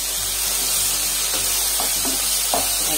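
Tomatoes and coriander seeds sauté in a hot pan for beef ularthiyathu, a steady broadband sizzle with a few soft stirring scrapes, close and continuous with no talk.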